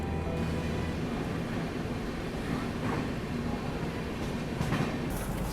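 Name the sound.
Gorakhpur-Varanasi intercity express train arriving at Bhatni Junction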